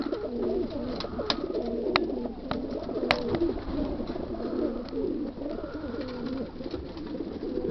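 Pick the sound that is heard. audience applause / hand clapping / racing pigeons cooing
racing pigeons cooing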